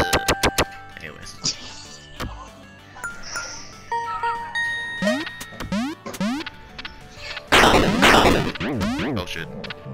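Gunfire in the retro-style Duck Game, with pistol and machine alien pistol shots landing as sharp repeated bursts and a dense loud flurry near the end, mixed with game music, chimes and lively talk from the players.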